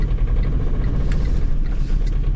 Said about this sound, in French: On a toujours au départ un peu de bruit parce que le moteur forcément a une grosse compression